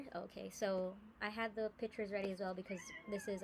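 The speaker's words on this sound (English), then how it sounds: "my cat is crying." A cat cries in the background, several short plaintive meows rising and falling under a woman's close, steady talking.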